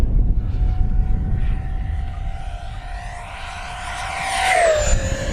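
An FMS Futura 80mm electric ducted-fan RC jet on a 6S pack makes a loud, steady turbine-like whine. It passes over the runway and the pitch sweeps down as it flies by, with no talk.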